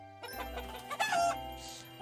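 Game-style chickens clucking on a farm in the video game Harvest Island, a few short close clucks over soft background music, with no talking.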